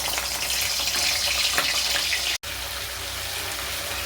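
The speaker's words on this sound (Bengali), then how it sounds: "প্রথমে আমি এই গরম তেলেতে চিংড়ি মাছগুলো ভেজে নেব" Prawns fry in hot oil in a pan, giving a continuous close sizzling hiss with light crackles, steady throughout apart from a momentary dropout.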